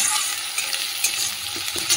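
Ginger-garlic paste is stirred in hot oil, a close, brief sizzle with soft scraping and light clinks of a spoon against the pan.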